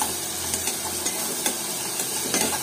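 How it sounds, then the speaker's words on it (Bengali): Onion with salt stirred in hot oil, giving a steady crackling sizzle with soft scraping strokes of the spoon recurring throughout. "লবণটা দিয়ে পেঁয়াজটা তেলের মধ্যে কিছুক্ষণ একটু নাড়াচাড়া করে নেব, যাতে পেঁয়াজটা একটু নরম হয়ে যায়।"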